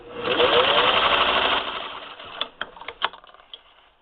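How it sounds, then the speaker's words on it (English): A Singer 15-91 sewing machine runs steadily for about a second and a half while sewing practice straight stitches, a loud close mechanical whir, then slows into a few separate clunks and taps as it stops. "I'm just going to do some practice stitches in straight stitch with the machine"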